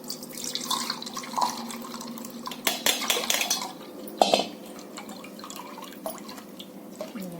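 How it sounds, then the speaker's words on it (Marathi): Tamarind and jaggery water is strained in a kitchen for alu vadi, with bowls and spoons clinking and scraping in bursts and liquid dripping and trickling close by. "चिंच गुळाचं पाणी आता आपण गाळून घेऊ."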